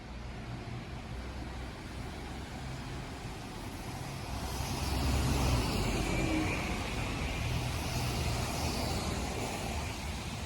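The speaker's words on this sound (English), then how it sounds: "Here on the left approaching is a diesel bus, followed by an electric bus" A diesel bus then an electric bus pass nearby in Amsterdam, a low rumble swelling in the middle and then easing into a softer, steadier hum, with no voices.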